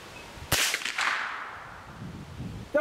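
An arrow fired at an outdoor target hits with a crisp, loud whip-like crack and a brief rattling decay, with another sharp snap right at the end.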